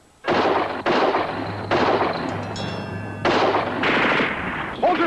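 Bursts of loud gunfire, several short volleys of rapid shots with brief gaps between them, close and sharp, with no talk over them.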